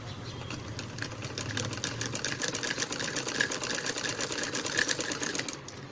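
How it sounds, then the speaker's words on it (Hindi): A sewing machine runs a straight seam on a katori blouse piece, a fast steady mechanical chatter that holds continuously for several seconds and stops at the end, with no talking. "अब हमें इसकी स्टिचिंग करनी है सीधी।"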